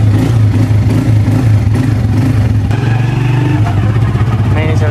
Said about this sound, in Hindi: मोटरसाइकिल स्टार्ट हो गया